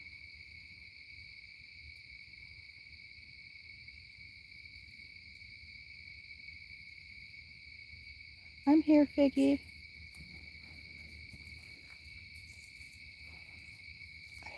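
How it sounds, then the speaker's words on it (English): At night, a short burst of owl hoots sounds at middle distance, over a constant high whine of crickets and insects, with a brief spoken line nearby. "I heard an owl twice"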